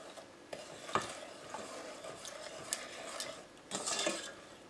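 Fudge mixture being stirred in a pan over medium heat, with quiet scraping and clinking of a spoon against the pan in irregular strokes, faint and close.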